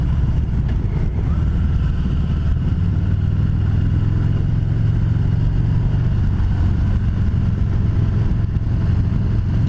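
A Harley-Davidson 2020 Heritage Classic 114 FLHCS engine rumbles steadily while riding, a loud continuous low drone with wind noise and a slight drop in pitch partway through, no talk.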